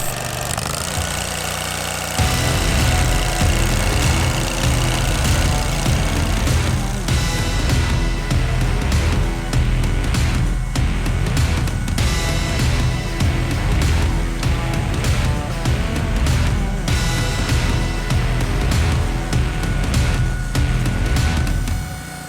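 A Ventrac compact tractor's engine runs loud and close throughout, a steady rumbling drone with rattling vibration that rises in intensity shortly after the start and stays constant.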